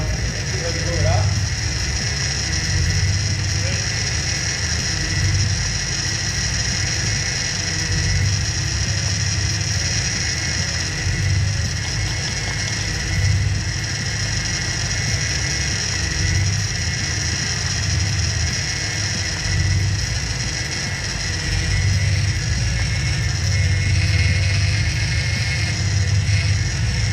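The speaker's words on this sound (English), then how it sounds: "Noisy that pump, hasn't it?" A fuel pump on a BMW 645 Ci with very little fuel in the tank runs as a steady, loud mechanical whirr and buzz with a faint ratcheting edge, continuous and unchanging throughout.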